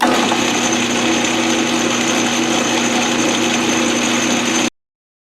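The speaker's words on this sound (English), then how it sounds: "we're turning down titanium on a redneck lathe" A homemade lathe turns down a half-inch titanium rod, producing a steady, close, droning machine whine with a constant pitch that cuts off abruptly near the end.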